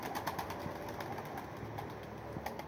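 Pigeons cooing in a loft among young birds, soft low repeated coos over a busy background of other birds and faint wing or movement noise.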